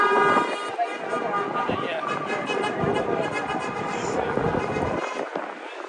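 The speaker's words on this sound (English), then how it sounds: "A lot of honking support today." Car horns honk in support at a Louisville Democratic Party march to Mitch McConnell, a steady loud din of honking and crowd noise under people talking.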